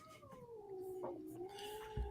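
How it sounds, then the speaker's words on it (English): A cat gives a long, drawn-out meow that slides downward in pitch, fairly faint and somewhat distant, with a brief thump near the end. "Can you tone the cat down"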